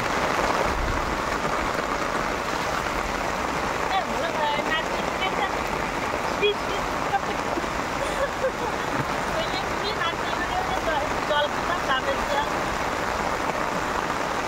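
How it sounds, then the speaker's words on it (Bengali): Heavy rain pours in a steady, dense roar that holds at the same level throughout, with a voice speaking underneath it. "বিশাল জোরে বৃষ্টি হচ্ছে, বিশাল জোরে।"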